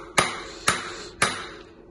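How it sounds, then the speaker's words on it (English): Three ringing, metallic hammer strikes tap a star nut down into a mountain bike fork steerer, evenly spaced and close, each with a brief ping decay. "we're just gonna take a hammer"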